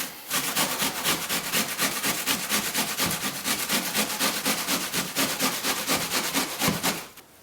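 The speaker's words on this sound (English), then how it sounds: "So we're going to grate this onion right now." An onion is rubbed back and forth on a grater while preparing Turkish kiymali borek, making a steady, rapid rasping scrape with regular strokes, close and loud, continuing for several seconds before stopping.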